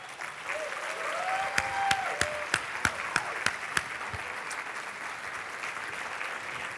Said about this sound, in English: I'd just like to do a little round of applause